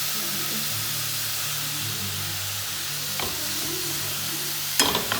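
Bottle gourd is roasted in a pan over a very low gas flame, giving a soft steady sizzle and hiss with occasional scraping stirs and one sharper clatter near the end, with no talking.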